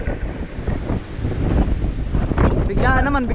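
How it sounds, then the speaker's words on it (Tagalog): Loud wind buffets the microphone in a continuous gusty roar, and a voice calls out briefly near the end. "Malakas na po ang hangin."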